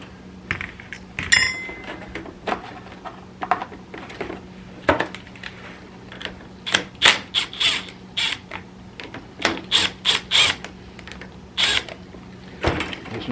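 Flaring tool being turned on a Dodge Dakota brake line, giving a series of sharp metallic creaks and clicks in irregular bursts over a low steady hum, close and distinct.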